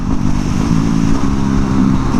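A Yamaha WR250X factory supermoto's single-cylinder engine hums loudly and steadily while riding, with a constant low buzzing drone close by and slight wavering in pitch.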